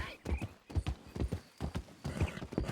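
Horse hooves clip-clopping in a roleplay video game, a steady rhythmic series of close hoof strikes with voices mixed in.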